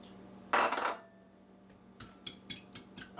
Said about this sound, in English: Now let me switch these bowls out.